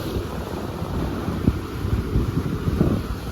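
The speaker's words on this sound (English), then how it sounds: "Wind's holding steady from the east." Steady wind rushes and buffets across a sailboat at sea in the Florida Keys, with a low wash of water underneath and no voices.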